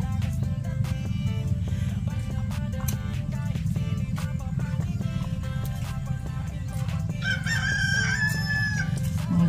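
A rooster crows repeatedly on a rural outing, loud drawn-out calls over a steady low rumble, with other bird chirps and a higher crow near the end.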